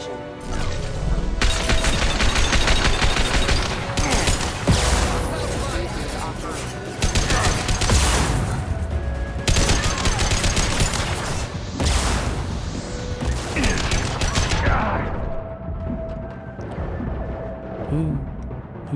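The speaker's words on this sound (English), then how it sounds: "Who's shooting me?" Sustained gunfire in Mass Effect 2 on Insanity, dense overlapping volleys and impacts with loud bursts rolling continuously for most of the stretch before thinning out near the end.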